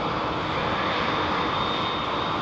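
Middle East Airlines jet in new livery at Heathrow, engines producing a steady broadband roar, moderately loud and unbroken across the short span, with no voices.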